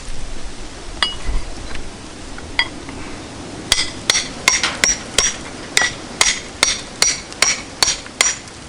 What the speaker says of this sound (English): for the purpose of this and this test, we're just going to use a regular framing hammer